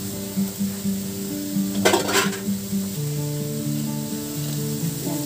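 Bean sprouts stir-frying in a pan with chicken, a steady sizzle with brief scraping and stirring clatter near the middle, close and moderately loud.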